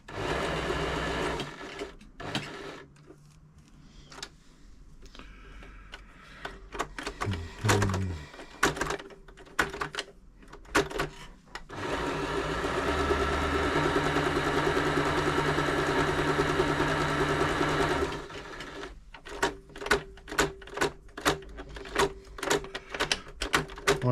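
An ELNA 3007 sewing machine runs in bursts of stitching, with a long steady run in the middle and quick stop-start bursts toward the end, close and fairly quiet.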